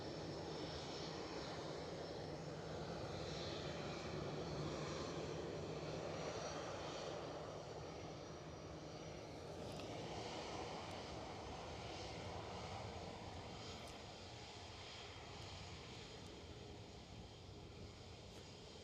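An EasyJet Airbus A320-200 departing Edinburgh airport in the evening, its jet engines a sustained distant roar that swells slightly then eases, alone without voices.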